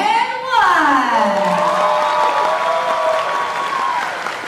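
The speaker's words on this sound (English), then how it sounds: "you give me your loudest round of applause. If you would throw in a bit of cheering, especially those from the back" Audience at a college prospectus event breaks into a loud round of applause with whoops and cheering, dense clapping holding steady throughout while voices shout over it.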